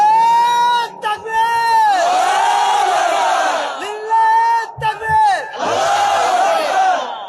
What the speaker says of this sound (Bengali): দেন তাকবীর দেন।